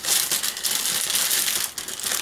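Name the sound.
taped plastic bag being opened, crinkling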